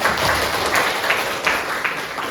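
Students in a classroom applauding together, a dense, even patter of many hands clapping close by for a couple of seconds, with no talk over it.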